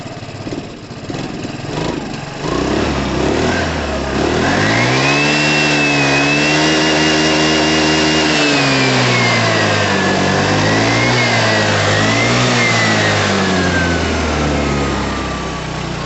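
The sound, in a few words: Piaggio Fly 125 scooter engine running and revving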